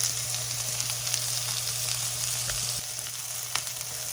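Onions and okra sautéing in a pan over a high flame give a loud, steady, close sizzle with a few faint stirring knocks, continuous and free of talk.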